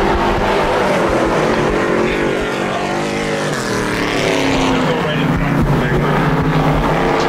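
Dirt modified race cars roar around the Airborne Speedway oval in Plattsburgh, NY, a dense, continuous engine drone from several cars at once, swelling and shifting as they pass, with commentary and crowd ambience mixed in.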